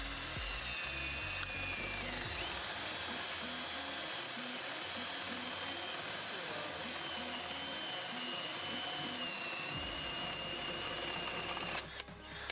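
A DEKO 20V cordless impact driver whirs continuously at high speed, a steady mechanical drone as a spade bit bores into wood, cutting off near the end.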